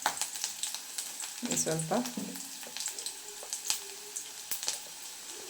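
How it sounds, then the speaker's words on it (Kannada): Chopped garlic frying in a hot pan for egg burji, a steady crackling sizzle with sharp pops and stirring clatter, while a person briefly speaks over it. "ಕಟ್ ಮಾಡಿ ಇಟ್ಕೊಂಡಿರೋ ಅಂತಹ ಬೆಳ್ಳುಳ್ಳಿ ಫ್ರೈ ಆಗಲಿ"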